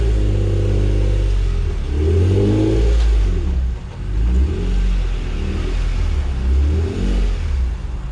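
A Honda NSX at a Los Angeles car show revs loudly and close by, its engine climbing and dropping through several throttle blips in a row, with no talk over it.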